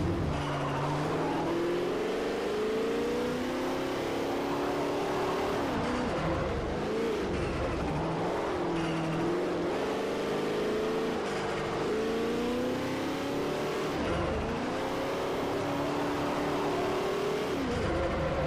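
SSC race car engine in Forza Motorsport 4, a steady loud high-revving whine rising and falling through gear changes, continuous throughout with no talk over it.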